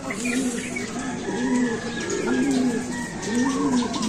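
Racing pigeons coo in repeated low throaty phrases about once a second, fairly close and steady, during a pigeon race with no talk over them.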